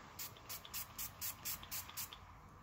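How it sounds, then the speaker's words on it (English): Repeated short bursts from a color spray bottle misting onto a paper napkin, about eight quick hissing pumps in an even rhythm, close and fairly soft, with no talk. "we're just going to spray it on our napkin"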